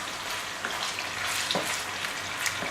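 Onion frying in a hot pan with pork for a Dublin pork pie, giving a soft, even sizzle with a few faint stirring clicks, heard up close with no speech.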